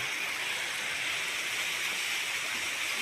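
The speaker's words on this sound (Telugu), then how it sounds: "మొత్తం అది వాటర్ ఫ్లో" Continuous rushing water, an even, bright hiss of flow with no pauses, moderately loud and steady throughout.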